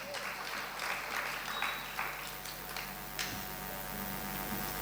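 An audience at a religious discourse in a Terapanthi hall at Shikharji, Madhuban, applauds with steady, even clapping that spreads across the room, moderately distant and sustained over a low hum.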